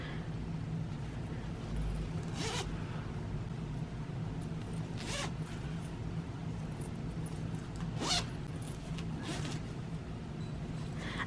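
A few short zipper pulls rasp at intervals over a steady low hum, each one quick and close, with quiet gaps between.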